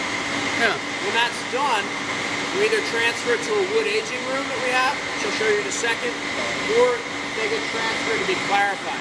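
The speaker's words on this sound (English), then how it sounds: "That loud noise you can hear kind of humming, we have 2 mechanical separators called centrifuges that spin the beer around really quickly" Two mechanical centrifuge separators spin beer in a brewery, giving a steady, fairly loud mechanical hum under someone talking throughout.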